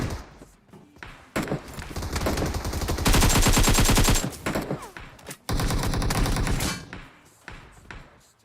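Gunfire in the PUBG Mobile video game: loud, close bursts of rapid automatic fire and single shots, with brief gaps between volleys and a dense sustained burst in the middle.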